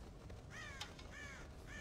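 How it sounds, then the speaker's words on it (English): Crows caw in the Red Dead Redemption video game, several harsh, raspy calls in short bursts at moderate distance over a quiet outdoor background, with no talking. "God damn crows!"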